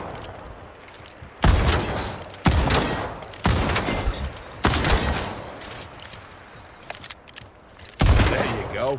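Video game gunfire in a tutorial comes as several loud, sharp bursts of shots, separated by brief quieter gaps, close and punchy with no voices over them.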